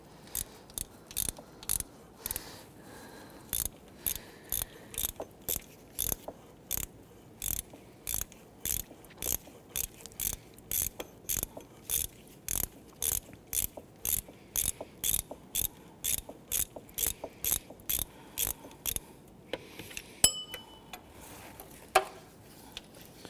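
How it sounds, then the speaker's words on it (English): Ratchet with a 14mm socket loosening an idler pulley bolt, sounding as a long run of sharp, evenly spaced clicks in a steady back-and-forth rhythm, close and crisp, ending with a few clinks as the bolt comes free. "Using a 14mm socket to remove the bolt for that idler pulley."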